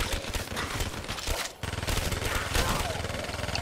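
Rapid gunfire from Call of Duty Zombies on the Moon map, as players mow down zombies, loud and continuous with a brief gap midway, game sounds layered throughout.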